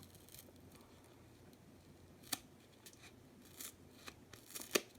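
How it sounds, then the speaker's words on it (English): Scissors snip through the side of a shipping package: a few sharp, isolated cuts at irregular intervals, close and fairly quiet over a faint room hush. "I'm going to see if I can snip the side."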